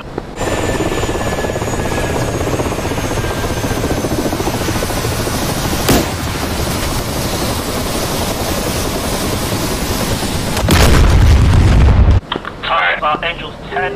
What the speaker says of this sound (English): That chopper died.